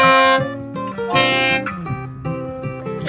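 A boat's horn honks loudly nearby on the Trent Canal, with a couple of long, harmonically rich blasts followed by shorter wavering toots, sounding alone without talk.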